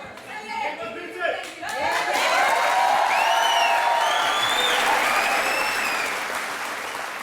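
A studio audience on a televised courtroom-style talk show bursts into applause that swells into a dense, sustained wash of clapping with some crowd voices, fading slightly toward the end.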